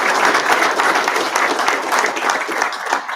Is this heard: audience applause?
yes